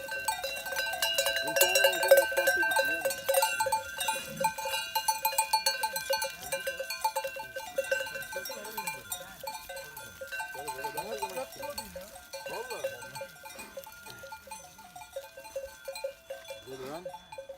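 A flock of sheep, with dogs kept nearby, mills about with many cowbells clanking and jingling, occasional bleats scattered through, and people talking in the background.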